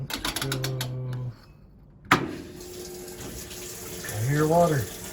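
A newly installed washing machine begins filling, with water hissing in after a sharp click; beeps sound before a quiet pause, and a person speaks briefly over the steady flow near the end.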